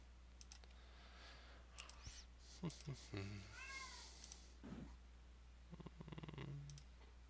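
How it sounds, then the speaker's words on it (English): A grumpy cat meows in a room during a tabletop game session, its cry rising and falling around the middle and rising over steady background hum, keyboard clicks and people talking nearby. "That is one grumpy cat."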